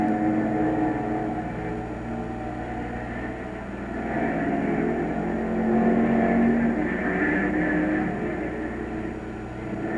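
Sports racing cars at the 1957 Sebring 12 Hour race, including Porsches being overtaken, roar steadily at a distance. Layered engine drone swells and fades as the cars pass, with no voices over it.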